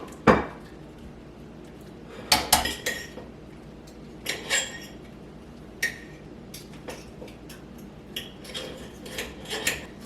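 A knife cuts and scores meat off a ham hock for slow-cooker bean soup, producing scattered close knocks and clinks of the blade against a board and dish, with quiet gaps between strokes.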